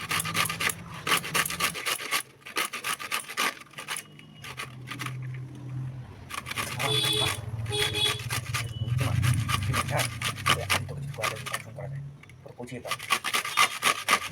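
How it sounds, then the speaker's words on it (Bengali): Pointed gourd skin is scraped off with a kitchen scraper in quick, rhythmic rasping strokes, close and fairly loud, with brief pauses between bursts of rubbing. "এখন এটাকে ঘষুনির সাহায্যে ঘষে নেব, আর এইভাবে ঘষে নিচ্ছি।"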